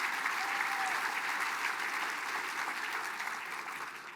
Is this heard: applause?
yes